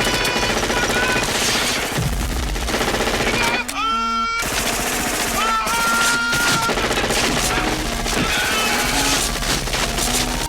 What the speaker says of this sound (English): firing frantically at the forest ahead